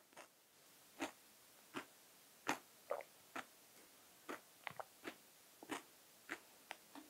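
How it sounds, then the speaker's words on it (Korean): Sharp crunching bites of a crunchy protein shake repeat about a dozen times at an uneven pace, close and crisp, with quiet pauses between them and no talking. "크런치 완전 바삭바삭한지 소리만 들어도 알겠지?"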